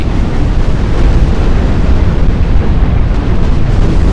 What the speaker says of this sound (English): Direct hits, penetrations. Shells going straight through my ship.